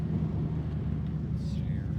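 RWD LS-swapped turbocharged Pontiac Grand Prix pulling in second gear, a loud low engine drone heard from inside the car, with a brief higher whistling sweep near the end.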